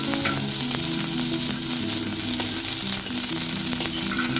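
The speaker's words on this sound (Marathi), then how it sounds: "हे भाजताना आपण गॅस एकदम स्लो ठेवलेला आहे आणि आपल्याला हे मंद गॅसवरतीच भाजून घ्यायचे" Fresh green chickpeas roasting in a pan over low gas, giving a steady close crackling sizzle with small scattered pops and scraping stirs, no talking.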